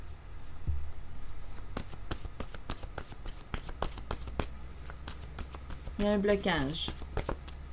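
Tarot cards are shuffled by hand close up, with a rapid run of crisp riffling clicks that stops for a moment and then resumes. Someone speaks in French over the shuffling.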